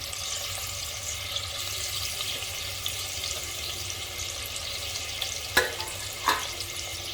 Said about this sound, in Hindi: अब इनको हमको थोड़ी देर फ्राई करना है अच्छी तरह से।